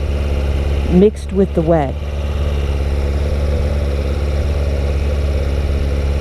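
A motorcycle engine runs steadily at a low idle while the bike is backed into a spot on a wet, sandy surface in winter rain, a continuous low rumble throughout with a voice speaking briefly near the start.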